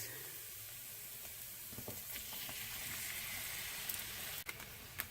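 Onions, garlic and tomatoes cook in a pan for a Provençal zucchini and potato gratin, giving a soft, steady sizzle with faint stirring clicks throughout.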